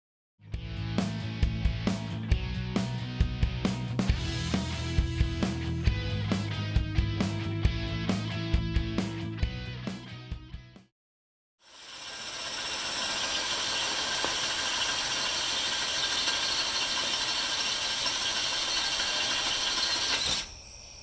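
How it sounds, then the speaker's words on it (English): A Drill Doctor sharpener grinds a drill bit: rhythmic ratcheting clicks over a motor hum, a brief pause, then a steady, loud whirring grind that runs to the end. "So now I've got it rigged up here and ready to sharpen in the drill doctor."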